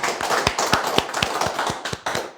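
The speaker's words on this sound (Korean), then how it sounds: "박수로 한번 좀." Audience applause in a meeting hall at a political forum, dense clapping with steady, rhythmic thumping beats running through it for a couple of seconds, fairly loud and close.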